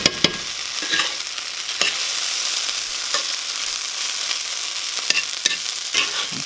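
A spoon works through a brown-butter tomato relish in a hot pan, sharp scraping clicks landing irregularly every second or so over a continuous close sizzle, with no voices.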